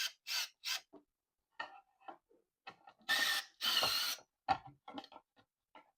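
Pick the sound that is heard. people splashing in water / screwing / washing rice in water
screwing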